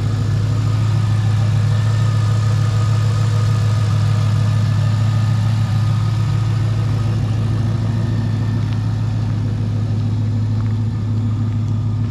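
A Chevrolet Corvette C5 with truck coil packs fitted idles close by, a loud steady low engine rumble with an even rhythmic pulse, unchanging throughout, no talk.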